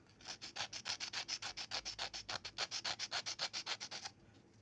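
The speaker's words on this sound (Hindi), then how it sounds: "उसके बाद आपके पास जो रेगमाल होगा वो अपने ऊपर से लगा देना है" Sandpaper rubbed briskly back and forth over a metal sewing machine part during repair, about twenty-five even, rhythmic strokes in a steady scratchy run, close and clear with no talking.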